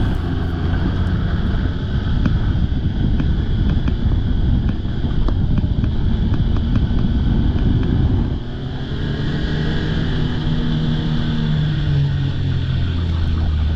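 A 2017 Blizzard snowmobile with a 1200 four-stroke engine runs along, giving a loud, constant low engine drone mixed with heavy wind buffeting that dips briefly partway through, then carries on.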